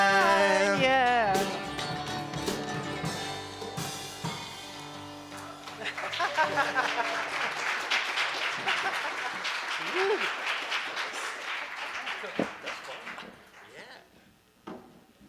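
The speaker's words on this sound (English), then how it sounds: "Get another round of applause for our wonderful in-house band." Audience at a South Valley big event applauding the in-house band, the music ending first, then sustained clapping and cheering rising from the crowd and fading out near the end.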